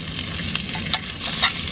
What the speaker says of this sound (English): Pepperoni's already starting to cook.